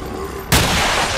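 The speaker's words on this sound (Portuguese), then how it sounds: "Ah, tiro de Magno." A magnum pistol shot in the video game Resident Evil 4, one sudden, very loud close blast that cuts in mid-clip and rings out with a long, noisy decaying tail over a steady game background.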